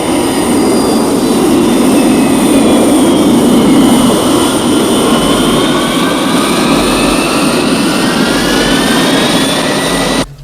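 A jet aircraft's engines roar steadily and loudly as the plane climbs, a broad sustained rumble with rising whine tones holding for about ten seconds before cutting off abruptly.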